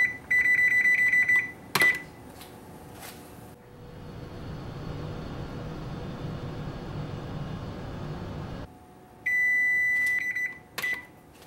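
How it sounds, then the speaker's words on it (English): An oven timer beeps in loud, sustained electronic tones, a burst at the start and another near the end, separated by a stretch of quiet room hum. "Oven timer."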